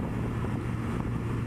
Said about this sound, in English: And it's fucking windy, man.